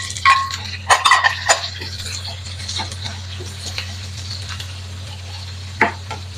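Onion, green chilli, curry leaves and garlic sautéing in a pan for kovakkai fry, with a low background hum and a few distinct clinks and scrapes of a spatula, near and moderate, no speech.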